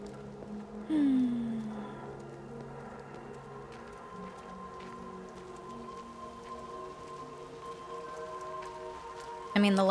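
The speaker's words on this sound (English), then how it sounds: "Although now we're back to the rain." Steady rain falls in the video game Everybody's Gone to the Rapture, a continuous soft patter with a low ambient drone beneath, holding at an even level throughout with a brief louder swell near the start and end.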